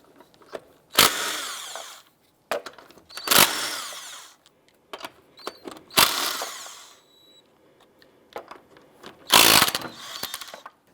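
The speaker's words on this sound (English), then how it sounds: "Using a 19mm socket, let's go ahead and remove our lug nuts." Impact wrench or power tool removing lug nuts with a 19mm socket on a 2001-2005 Honda Civic wheel: four loud, short whirring-rattling bursts separated by quieter clinks and handling noises, no voices.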